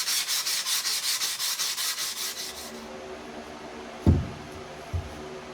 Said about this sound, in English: We're starting off with 80 grit to remove any imperfections from grinding.